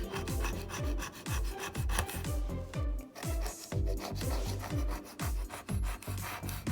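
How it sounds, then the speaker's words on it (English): A hand scraper drags repeatedly across a plastic cutting mat in steady back-and-forth strokes, a close, rasping scrape recurring about every half second with a brief pause midway. "As you use your scraper, you're going to want to feel around"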